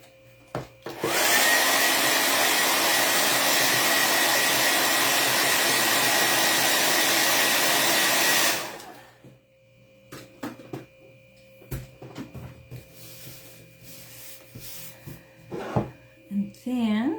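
A hair dryer blows steadily at close range for about eight seconds while drying a craft piece, then cuts off, leaving quiet handling noises and light clatter.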